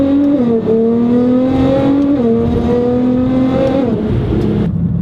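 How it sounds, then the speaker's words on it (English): A Nissan GT-R with a full custom exhaust, about 600 wheel horsepower on E85, revs loudly and close, its deep droning engine note stepping up and down through shifts before cutting off near the end. "End result is it makes a little over 600 wheel horsepower, and it is very, very loud."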